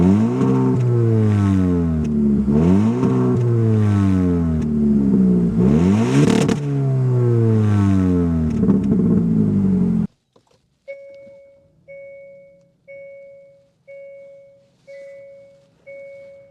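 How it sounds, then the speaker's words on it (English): Loud engine revving from a 2024 Hyundai Elantra N-Line with an inline engine, several rising and falling swells across about ten seconds, then a short silence and a run of evenly spaced electronic chime beeps. "start it up so you can hear that exhaust note."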